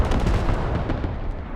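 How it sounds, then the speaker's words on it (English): Artillery strike explosions in the video game Squad: a quick cluster of heavy booming blasts with rolling, crackling decay, loud and dense at first, then thinning into scattered distant thuds. "Gets absolutely flattened by the artillery."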